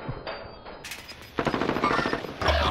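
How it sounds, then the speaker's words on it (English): An Owen gun firing in a video game: a brief quiet lull, then a loud rapid burst of automatic fire that runs on for about a second, followed by another sharp shot near the end. "Owen gun is so OP."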